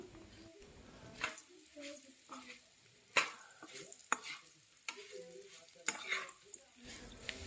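A spoon scraping and stirring pre-fried potato and carrot pieces in a hot pan, with soft frying sizzle underneath and several clanks against the metal; a voice talks over it.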